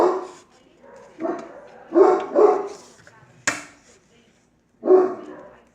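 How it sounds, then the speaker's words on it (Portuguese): A dog barks in several sharp bursts, fairly close, with pauses between them and one abrupt loud bark in the middle. "meu cachorro começa a latir"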